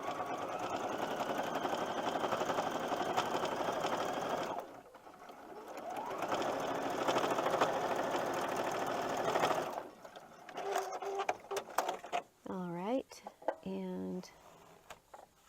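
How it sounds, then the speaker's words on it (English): A sewing machine stitches a quarter-inch seam on Christmas tree quilt placemat pieces in two long, steady runs of rapid needle clatter with a short pause between them, followed by a person talking near the end. "That will allow you to make sure you have a 1/4 inch seam allowance available there to sew your seam."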